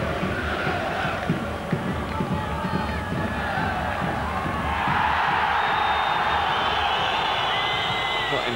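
Massed supporters at a Vitesse vs Liverpool UEFA Cup match sing and chant in a sustained, melodic roar that grows fuller midway, a dense wall of voices filling the stadium.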